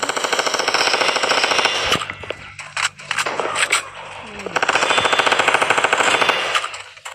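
Rapid automatic gunfire from a Roblox shooting game, loud dense bursts of rattling shots in two long stretches with a brief gap between, while players talk over it.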